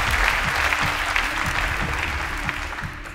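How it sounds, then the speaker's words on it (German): Steady studio audience applause at a German celebrity talk show with footballer Mario Götze, dense clapping filling the room throughout and slowly tapering near the end, with a faint low tonal hum beneath. "Applaus."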